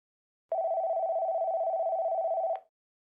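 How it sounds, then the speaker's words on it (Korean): A single steady electronic telephone tone, clean and mid-pitched, sounding for about two seconds from silence and cutting off sharply. "전화가 울리고 있다."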